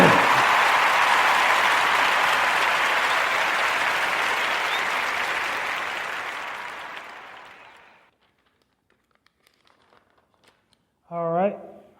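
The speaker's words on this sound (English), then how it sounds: "the warmest Narrative Podcast round of applause and salute for his mural" A warm round of applause and salute for a mural at Kit Vision Academy in Atlanta, Georgia: sustained loud clapping from a crowd that thins and dies away after about eight seconds, followed by quiet and a brief voice.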